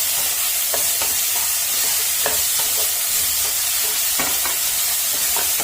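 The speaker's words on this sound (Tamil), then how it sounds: "சேர்த்துட்டு இதையும் நல்லா வதக்கி விட்டுறலாம்." Peas and cauliflower sautéing in a pan for red poha upma, a steady close sizzle with repeated scraping strokes of a spoon stirring through the vegetables, no voices.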